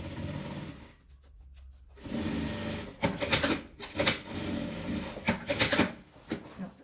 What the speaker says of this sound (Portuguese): Essa parte mais grossa, você costura com cuidado pra não quebrar a sua agulha.